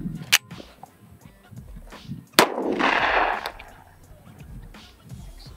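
Two sharp, loud gunshots, a 10mm pistol fired into a ballistic dummy torso at an indoor range, crack out a couple of seconds apart, the second followed by a lingering rush of noise amid faint low talk.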